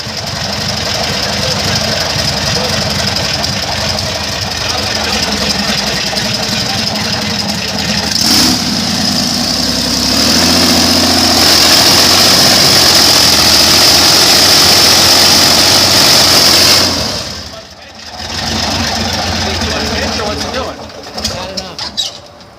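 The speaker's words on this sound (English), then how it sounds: "now we're just gonna rev the shit out of it like it's in the water" A loud airboat engine roars at high revs out of the water, climbing in pitch midway, then cuts out briefly before catching again; voices can be heard beneath the din.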